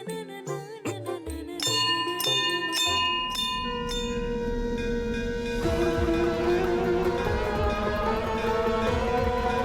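Bright bell tones ring out in a series of quick strikes, followed by sustained ringing overtones that linger and overlap.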